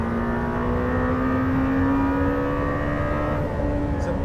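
A Lamborghini Temerario hybrid V8 supercar with a 10,000 rpm limit screams at high revs on a race track, a loud, sustained, nearby engine whine with a steady rising pitch.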